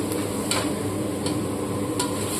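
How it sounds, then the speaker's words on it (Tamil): Chopped onions sautéing in hot oil in a kadai make a continuous close sizzle, with a few brief spoon-scraping stirs and no talking. "ஆயில் நல்லா ஹீட்டான பிறகு நறுக்கி வச்சுருந்த வெங்காயத்தையும் அதில் போட்டு நல்லா வதக்கிக்கோங்க"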